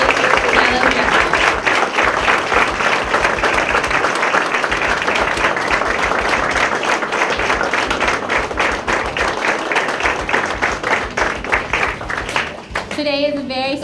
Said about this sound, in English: give a roaring round of applause to our Lady of the Hour, Miss Alexandra Martinez